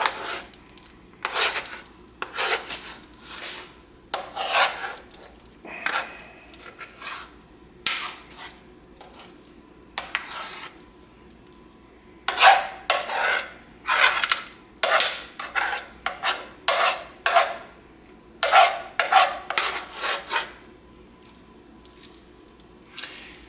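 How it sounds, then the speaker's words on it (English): Mashed potatoes spread in layers over a po boy lasagna, a series of soft wet scraping and squishing strokes from a utensil, close and fairly loud, coming in irregular clusters with short pauses between. "Put our mashed potatoes on top of it."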